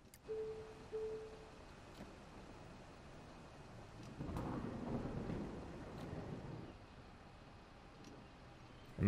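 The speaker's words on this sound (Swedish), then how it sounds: "Men sluta regna nu." Rain and thunder in Bus Simulator 2021, a steady soft patter of rain with a low rolling rumble of thunder swelling in the middle, fairly quiet and without talk.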